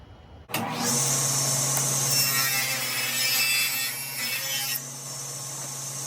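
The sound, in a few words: table saw splitting wood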